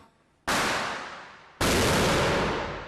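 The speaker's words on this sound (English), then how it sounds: "I brace for an explosion and hundreds of tiny rubber balls which will be sent flying in every direction." A sting ball grenade scattering hundreds of tiny rubber balls goes off in two loud, close blasts about a second apart, each with a long decaying roar and no talking.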